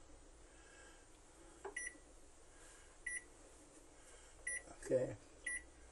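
Oven control panel beeping while being set to preheat at 350 degrees, several short electronic beeps spread out over a quiet room, with a voice speaking briefly.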